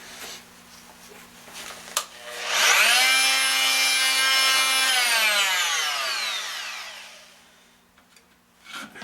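A power tool cuts the twisted spirals of a wooden vase held on a lathe, a loud rising whine that holds for several seconds and then slowly winds down, framed by quieter knocks and handling.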